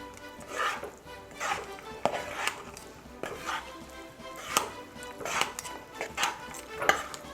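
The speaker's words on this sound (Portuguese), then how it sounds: "Vamos agora misturar." Ingredients are mixed in a bowl for a Christmas dish, with a rhythmic series of quiet utensil clinks and scrapes against the bowl, roughly a dozen strokes at an even pace, close and without talk.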